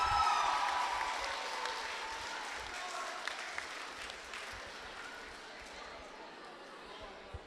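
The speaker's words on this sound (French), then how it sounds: "Et une bonne main d'applaudissements pour notre podium juvénile 4 km 2022" Applause from an audience greeting the podium of a 2022 junior 4 km race, a steady patter of clapping that is strongest at the start and slowly thins out over several seconds.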